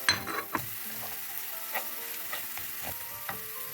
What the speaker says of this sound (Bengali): দিয়ে দিচ্ছি কারি পাতা